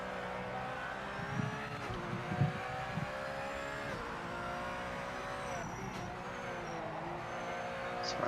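A Porsche GT4 race car in a racing game laps the Nürburgring, its engine revving steadily through gear changes with rising and falling pitch, occasional tyre noise, continuous and close throughout.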